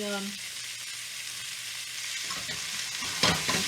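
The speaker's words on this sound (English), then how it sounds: "That sausage is browning up really nicely." Italian sausage sizzling and browning in a pan, a soft steady fry with faint stirring scrapes that grow busier near the end, close and without talk.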